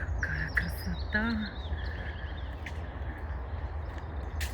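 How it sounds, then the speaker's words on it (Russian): Several birds chirp and whistle outdoors in Kazan, short bright calls scattered over a steady low rumble of wind or distant traffic. "Тут птицы поют."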